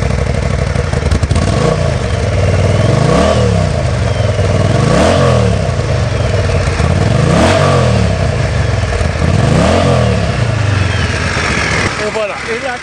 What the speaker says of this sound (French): Je vais juste démarrer le moteur.